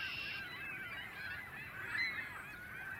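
A group of redhead ducks squabble, a female harshly scolding a male in a steady run of nasal honking calls, moderately close and loud, with no talk over it.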